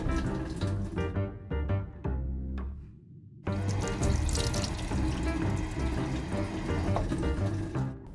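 Tap water runs into a bathroom sink for a rinse during tooth brushing, a steady close splashing gush that briefly cuts off and then flows strongly again, with no talking.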